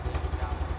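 Engine of a Honda Super Cub C125 motorcycle running at a steady idle, a close, even low putter with a regular pulsing beat and no talk over it.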